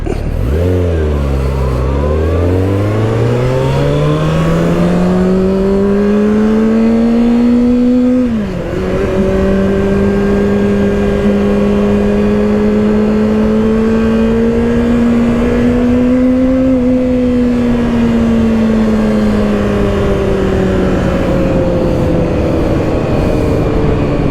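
A 2024 Kawasaki ZX-6R 636 sport motorcycle engine on stock exhaust revs hard and climbs through the gears, pitch sweeping upward, dropping at a shift, then pulling steadily higher, loud and close.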